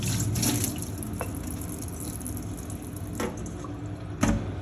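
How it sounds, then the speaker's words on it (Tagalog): Steady tap water runs into a sink while cabbage is washed under it, a continuous close splashing wash with a few brief louder splashes and knocks. "Hugasan muna natin itong cabbage mga bikers bago hiwain."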